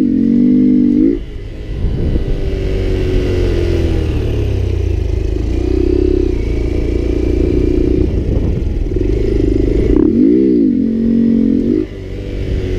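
A Honda Grom motorcycle engine held on steady throttle during brake-control stunt practice, a loud close mid-pitched drone that runs nearly continuously, dipping briefly and swelling in pitch near the end.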